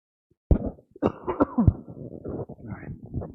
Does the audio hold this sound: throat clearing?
yes